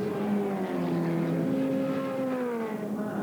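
Production cars racing at the Taupo circuit in New Zealand, engines droning and shifting pitch as they run close together, a loud continuous multi-car roar with rising and falling tones.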